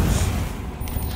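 Confringo blasting spell in Hogwarts Legacy: a dense, rumbling fiery blast that stays loud and steady throughout, with crackling bursts near the end.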